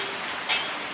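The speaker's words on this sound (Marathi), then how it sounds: "एवढा काही नाही आहे पाऊस" Light monsoon rain makes a steady, soft hiss as it falls on surfaces outdoors, with a single brief splash midway.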